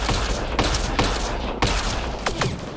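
Gunfire in the Mass Effect Andromeda video game: a few sharp, loud shots spaced irregularly over a steady background hum, with short bursts near the end.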